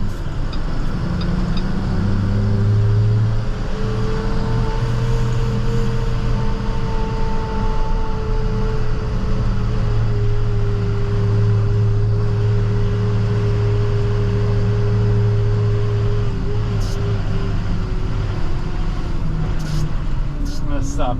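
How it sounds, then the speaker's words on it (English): A snow plow truck drives over a camera during the first snow storm of 2023, its steady loud engine rumble and tire roar continuing close by without a break, with a slowly shifting drone throughout. "set up a shot where I drive over the cameras"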